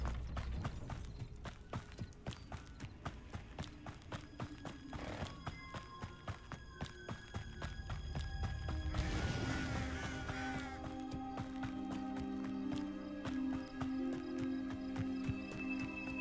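Horse hooves clip-clopping at a steady walking rhythm in Hogwarts Legacy, moderately close, joined by a swell of background music and mechanical clatter partway through.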